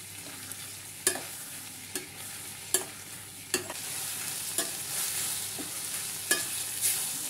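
Banana flower sautéing in a pan for chutney, a steady close sizzle punctuated by about eight distinct spatula scrapes and knocks at irregular intervals, with no talking.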